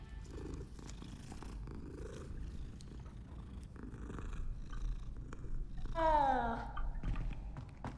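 A cat purrs steadily while being petted in the video game Hogwarts Legacy, a low continuous rumble. Near the end it gives a short, rising and falling meow.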